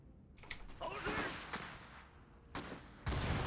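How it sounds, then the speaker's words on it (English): Gunfire in the strategy game Iron Harvest rattles in dense overlapping bursts and volleys, fairly close and loud, with game noise in between and a final heavy burst at the end. "They're shooting at us."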